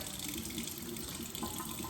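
Water runs steadily from a sink tap during a gentle face-washing skincare routine, a close, even hiss with no voices over it.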